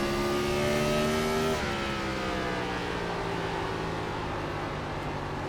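Race car engines from the iRacing NASCAR Gen 4 simulation at Kern County, a pack of cars droning steadily with layered engine tones that shift and drop in pitch partway through, loud and continuous with no talking.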